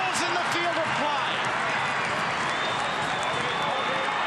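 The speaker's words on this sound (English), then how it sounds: "the crowd is on their feet" Rugby league stadium crowd roaring during an NRL match between Parramatta Eels and North Queensland Cowboys, a loud continuous wash of cheering that swells and holds, with a commentator talking over it.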